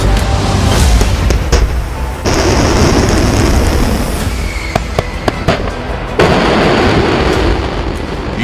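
A rocket or missile launch during the Russia–Ukraine war roars loudly and continuously, with sharp blasts and crackling bursts layered over a dense low rumble.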